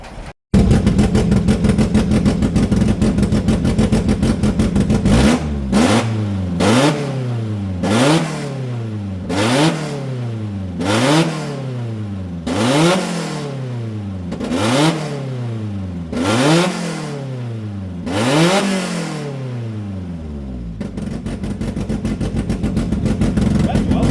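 Abandoned Ferrari engine idling then revving repeatedly while driving, about ten rhythmic throttle blips rising and falling, loud and close, settling back to a steady drone at the end.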